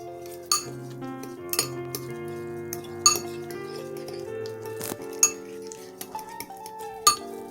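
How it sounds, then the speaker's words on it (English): Deviled egg filling of yolks, garlic powder, dry mustard and black pepper is mixed in a bowl, with repeated light clinks and scrapes of a utensil against the bowl, close and intermittent. "we're just going to mix it until well combined"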